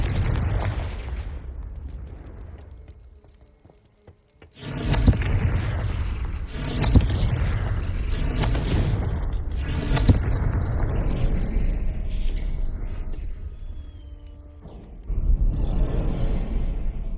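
Repeated loud blasts of the Confringo explosion spell in Hogwarts Legacy, several booming bursts in quick succession with broad rumbling roars, over a steady game soundscape.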